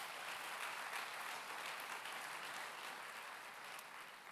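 A church congregation applauds the Lord during a midweek teaching service. The clapping is steady and dense but faint and distant, and it stays even throughout without any voices.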